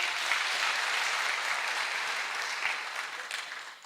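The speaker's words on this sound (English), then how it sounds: "A big clap for the governor." A crowd applauds a governor at a Pan African University launch in Kenya with steady, dense clapping that holds strong and then gradually thins and fades toward the end.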